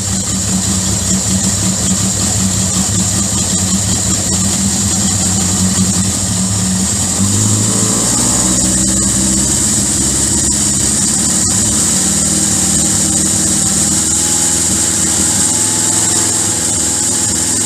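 A motor idles steadily on a rolling work bench, then is slowly brought up in revs partway through, its tone rising and holding as a loud, continuous drone with a faint high-pitched whine throughout.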